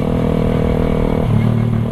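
A Suzuki Raider 150 carbureted motorcycle fitted with a Creed exhaust pipe drones loud and close, its engine note rising slightly as it revs.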